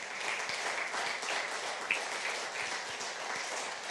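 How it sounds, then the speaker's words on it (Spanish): Congregation at a Spanish-language church service in London gives God a round of applause, an even, moderately loud patter of many hands clapping continuously. "Denle un aplauso a Dios"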